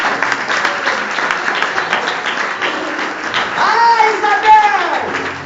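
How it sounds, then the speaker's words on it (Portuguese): Congregation applause in a church service fills the space with dense, steady clapping throughout, while voices and sung or spoken tones rise over it near the end. "Você pode dar uma salva de palmas para Jesus?"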